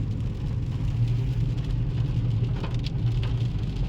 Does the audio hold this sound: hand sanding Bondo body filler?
no